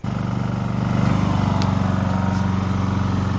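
A Honda EU2200i inverter generator runs under the load of a refrigerator and an air conditioner, its engine putting out a steady, close, buzzing hum with a fast regular pulse that rises slightly in pitch just after starting.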